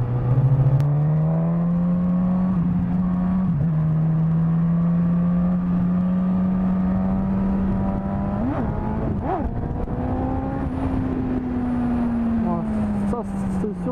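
A Suzuki GSX-S with ABS, 160 horsepower and its stock exhaust pulls steadily, its engine tone droning and slowly climbing in pitch with a few quick blips, close and loud throughout.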